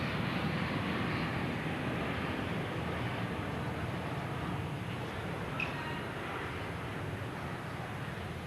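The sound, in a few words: aircraft flying overhead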